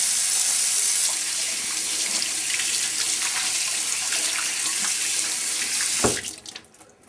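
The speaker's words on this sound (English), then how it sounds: "I'm gonna wash my hands again." Steady kitchen tap water runs loudly while someone washes their hands, a continuous rushing stream for about six seconds before the flow is cut off abruptly, leaving brief drips and handling sounds.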